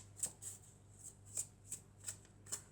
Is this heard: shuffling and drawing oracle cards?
yes